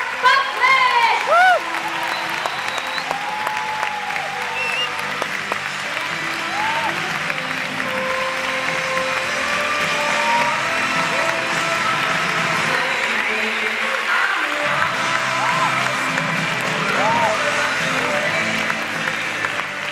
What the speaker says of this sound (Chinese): 掌声欢迎 Nu Skin 集团全球营养补充品研究暨理开发副总裁百里曼博士